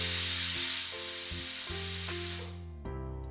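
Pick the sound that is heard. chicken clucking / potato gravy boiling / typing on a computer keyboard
potato gravy boiling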